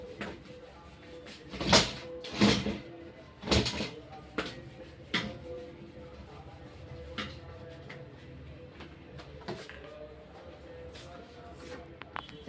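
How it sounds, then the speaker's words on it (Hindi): A door is shut in a classroom, giving a few close thuds and knocks with some scraping, followed by quieter shuffling and room noise. "दरवाजा लगा लीजिए, लगा लो जल्दी।"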